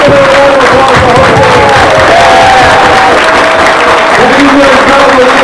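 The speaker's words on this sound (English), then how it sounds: "Let's give a round of applause for the whole family." Loud, sustained audience applause with cheering and whoops from a crowd at a campaign event in Iowa, continuous throughout and mixed with voices.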